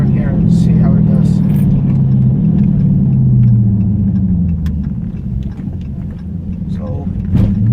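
A Dodge Charger Scat Pack rumbles through a turn, its deep engine drone steady and close from inside the car, dipping slightly mid-turn before rising again, with a person talking over it.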